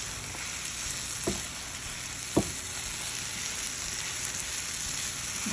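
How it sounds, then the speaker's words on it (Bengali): Raw green banana and garlic cloves frying gently in oil over very low heat, a continuous fine crackling sizzle with a couple of brief utensil taps, close and steady with no speech. "খুব অল্প আঁচে আমি কলাটা ভেজে নিব"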